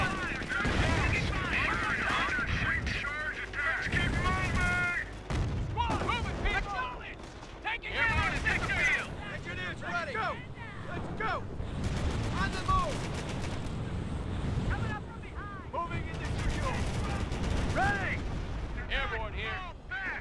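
A Company of Heroes battle with continuous gunfire and explosions from machine guns and artillery, dense and sustained, while soldiers shout orders over the din.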